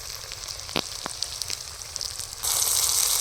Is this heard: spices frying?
yes